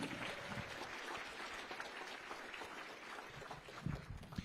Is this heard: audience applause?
yes